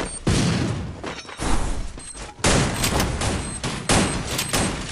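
Shotgun fire from an M590 in a video game: several heavy blasts in separate bursts, each with a ringing decay, sounding loud and close with brief quiet gaps between shots.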